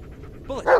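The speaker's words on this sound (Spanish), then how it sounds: "Estoy escuchando... ¿Eres el perro?" In the Blair Witch video game, a dog gives a short whimper that rises into a single bark, fairly quiet against a low background hum.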